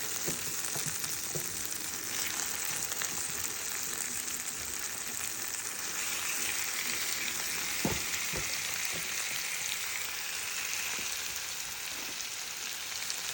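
Steady oily sizzling of marinated chicken frying in a hot pan for chicken biryani, continuous and close, with a few faint clinks and stirring taps along the way.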